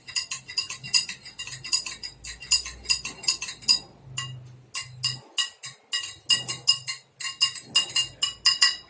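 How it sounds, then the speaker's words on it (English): A spoon stirs sugar into a glass of water, giving bursts of bright, rhythmic clinks against the glass with short pauses between them, close and clear with no voices. "Just now I am adding sugar in the glass of water. Then I am stirring to be dissolved."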